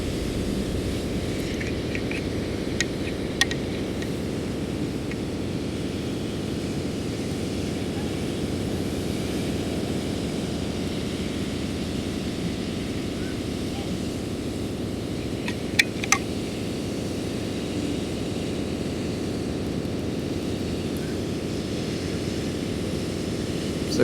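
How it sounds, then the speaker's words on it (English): A propeller airplane drones steadily overhead at a beach, a broad continuous engine hum holding level throughout, with a few faint clicks and no talk. "Observing this plane."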